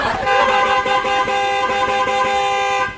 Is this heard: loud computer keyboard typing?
no